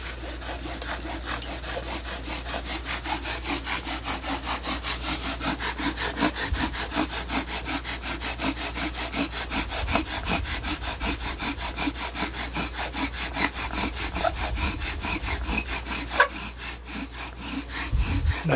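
A bow drill spins a spindle against a Spanish cedar board, giving rhythmic back-and-forth friction strokes, long and steady, with a raspy, sawing texture close up and growing slightly louder throughout.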